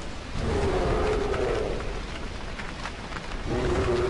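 Steady rain on Halloween night in the video game Don't Starve, a continuous hiss of falling drops with low rumbling beneath, an even wash of sound with no voices.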